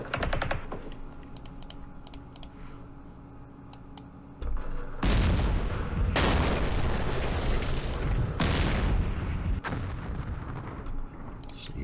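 Artillery fire in a war video game set in the Middle East during the Battle of Jerusalem, heavy booming bursts and a dense rumbling roar that jumps louder midway, mixed with keyboard clicks throughout.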